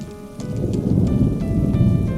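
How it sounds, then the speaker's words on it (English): Heavy rain pours steadily onto a roof, a dense, loud hiss with continuous pattering and no pauses or voices. "the sound of the rain pouring heavy over the roof"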